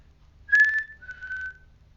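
A person whistles loudly, two clear sustained tones one after the other, the first stronger and slightly wavering, in a quiet old jail.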